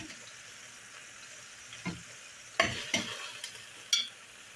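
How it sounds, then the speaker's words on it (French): Carrots tip into a hot tagine dish with a soft sizzle and a few clattering thuds as the pieces land and get stirred, fairly quiet and close with no voices. "Et à la place, je vais mettre les carottes."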